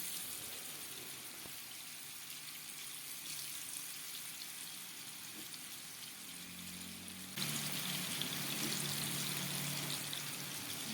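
Masala-coated potatoes fry in oil in a kadai with a steady, close sizzle that jumps noticeably louder partway through and stays constant, with no talking.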